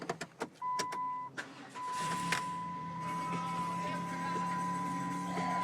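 A 2008 Chrysler Town & Country engine, just tuned up at 100K miles, cranks and catches after a few clicks, then settles into a steady idle hum with a faint high whine, close by.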